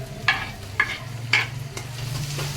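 Tomato stirred into onions frying golden brown for a prawn curry, with three or four sharp spatula scrapes against the pan over a continuous low sizzle, close and fairly quiet, no talking.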